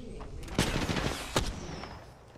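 Two sharp, loud Peacekeeper shotgun blasts from Apex Legends crack out about three-quarters of a second apart over a busy background of game noise, with a faint whine trailing near the end.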